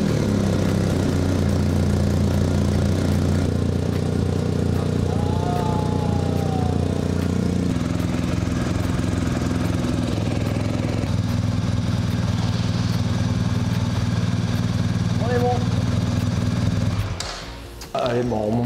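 A BMW R 1250 GS motorcycle engine idles steadily at close range, a continuous low mechanical hum and throb that holds for most of the stretch before cutting off abruptly near the end.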